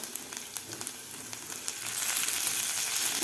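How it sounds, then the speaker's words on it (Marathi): Chopped garlic cloves and curry leaves sizzling in hot oil, a steady close crackle and hiss that swells louder toward the end, with no voices. "आता व्यवस्थित आपल्याला लसूण फ्राय करून घ्यायचं आहे"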